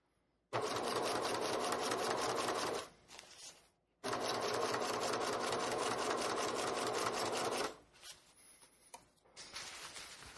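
A sewing machine stitches through three fabric layers of a stuff sack in two long, even bursts of rapid mechanical rattling, with a brief stop between them and soft handling and rustling afterward.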